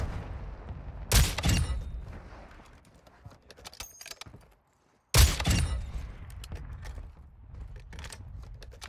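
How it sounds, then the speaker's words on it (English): Two loud, close blasts of in-game mortar fire in Call of Duty DMZ, spaced about four seconds apart, each a sharp broadband crack with a rumbling tail, over faint background noise and scattered small clicks. "Mortar going off. Actually, kind of close."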